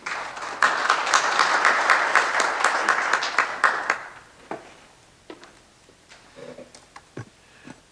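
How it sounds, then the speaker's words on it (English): An audience at a transportation summit applauds, with dense, steady clapping for about four seconds before it thins into a few scattered claps and light taps. "Let's give a round of applause to Steve Solway."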